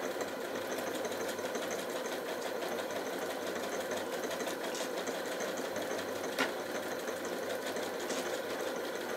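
A Janome Atelier 9 sewing machine stitches with a continuous, even mechanical whir and rapid needle chatter, steady throughout with one brief sharp click partway through and no talking.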